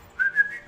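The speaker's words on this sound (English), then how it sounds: "I know how to whistle in French." A person whistles a short, bright rising tune of a few quick notes, close and clear, over a quiet background.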